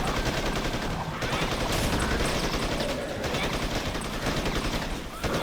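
Rapid video-game gunfire pours nonstop as several players shoot at a boss in Blade and Soul, dense loud bursts overlapping throughout with a faint voice underneath.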